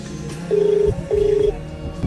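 A telephone ringback tone on a call being placed, heard as two steady, evenly spaced beeps over a low background hum, each lasting a little under half a second.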